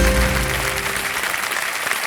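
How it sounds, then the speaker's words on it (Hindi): Studio audience applause on a TV quiz show, a dense wash of clapping that starts loud and tapers slightly over about two seconds, with no voices over it. "बोलने से पहले ही लोगों में ताली बज गई है।"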